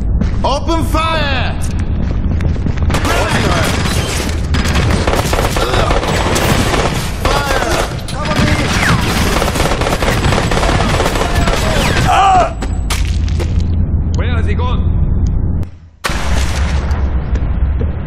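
Gunfire in the video game Crysis Warhead, a dense barrage of rapid automatic shots and booming blasts erupting loudly with shouted voices over it, briefly cutting out near the end before the din resumes.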